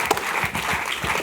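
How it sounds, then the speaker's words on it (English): Brief burst of audience clapping at a startup competition summit, a short patch of scattered applause from the room with a faint voice underneath. "Round of applause, folks."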